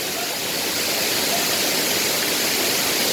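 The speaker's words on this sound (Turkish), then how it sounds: "Şelale." Maden Creek waterfall near Karasu, a constant loud broadband rush of falling water heard close up and alone, with no voices.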